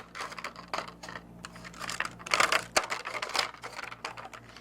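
Repeated crisp snipping and slicing of scissors through paper, close up, in irregular bursts with no talking.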